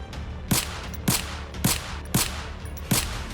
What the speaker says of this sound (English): They're using guns?